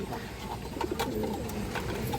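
Large-headed pigeons at a pigeon market cooing softly and steadily close by, a low continuous murmur with a few brighter calls and no voices over it.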